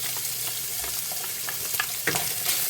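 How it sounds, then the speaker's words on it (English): Sliced onions added to a pan of frying bacon sizzle with a loud, steady crackle and hiss, while occasional stirring scrapes sound close up and no one speaks. "once your bacon gets about done, go ahead and add in our onions"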